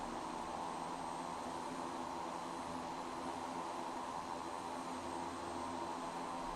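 Twin Otter DHC-6 turboprop engines adding thrust on a sandy beach strip, a steady loud broadband roar with constant droning tones throughout, no talk over it.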